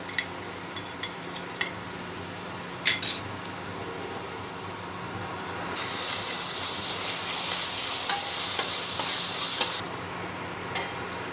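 Ginger garlic paste frying with onions for a chicken kosha, a low sizzle with scattered utensil clinks, then a louder hiss of steam and frying that swells midway and holds for several seconds before dropping back.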